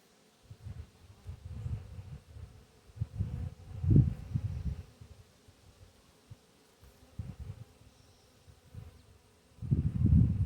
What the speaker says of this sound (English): we got a bunch of bees on the wall in here